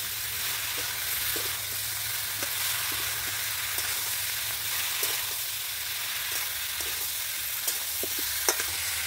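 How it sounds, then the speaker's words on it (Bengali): Ginger paste and spices sizzle steadily as they fry in a pan, with intermittent scrapes and light clicks of stirring throughout. The sizzle sits up close, dense and continuous, and no voices are heard. "আদা বাটা, মশলাগুলো দিয়ে ভালো করে নাড়াচাড়া করব।"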